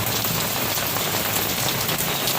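Heavy rain pours down steadily and loudly, a dense, unbroken hiss of drops striking surfaces close by, with no voices.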